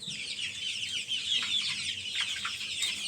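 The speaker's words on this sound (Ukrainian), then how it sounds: "Ну от вони, всі вони теж курочки." Several chickens cluck and chatter together close by, a busy, continuous flock murmur with scattered higher squawks.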